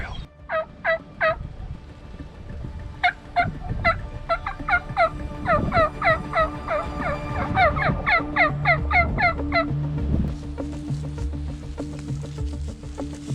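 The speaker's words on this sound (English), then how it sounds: "So we just struck up a gobbler right down here in the bottom." Wild turkey gobbler in a wooded river bottom in Iowa during spring hunting, gobbling repeatedly in rapid rattling bursts, fairly near and loud over steady outdoor background noise.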